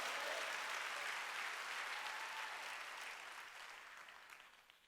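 A congregation at a Sunday church service bursts into full, even applause that gradually thins and fades away toward the end.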